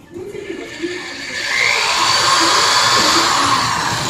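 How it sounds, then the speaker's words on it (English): Drill fitted with a very fine bit boring a small hole in a wooden hope chest, starting with a soft low whir that ramps up after a second into a loud, steady high-pitched whine. "what I'm going to do is use my drill, this kind of bit, very fine one."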